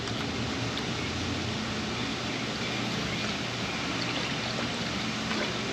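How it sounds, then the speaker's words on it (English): Fluid poured into a Honda CR-V 2.4 engine during a repair, a steady close splashing and gurgling pour that runs unbroken and fairly loud throughout. "pouring things."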